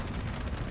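Gunfire in the online video game Fallout 76, a short, dense burst of rapid shots with heavy low-end rumble, loud and continuous with no voice over it.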